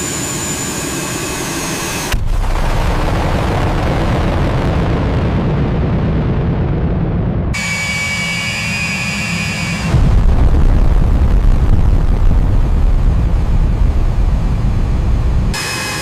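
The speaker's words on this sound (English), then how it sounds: "Engine 2 is ready to spool." Jet engines of a B-1B Lancer bomber spool up in loud roaring stages, with abrupt jumps in intensity as each surge builds into a heavy, continuous roar.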